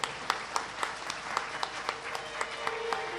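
Sparse audience applause at a family event honoring a birthday, moderately loud with distinct individual claps popping out over a thin, uneven patter.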